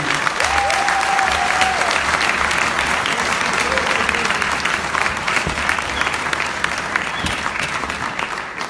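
A crowd at a training workshop in Lisbon gives a big round of applause for Dr. Ruja Ignatova, loud, dense clapping that continues throughout, with a brief voice or cheer near the start.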